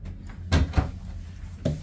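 Closet door in a Carnival Vista deluxe oceanview cruise cabin opened with a couple of close, dull knocks and a soft thud, short and fairly quiet in a small room.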